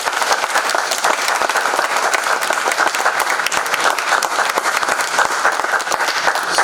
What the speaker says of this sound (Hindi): अगर आपको सेट डिजाइन का काम पसंद आया तो कृपया जोर से तालियां बजाइए।